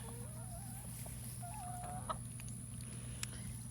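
Soft, low clucking of free-ranging chickens nearby on a homestead over steady background hum, with a few quiet chirps and clicks.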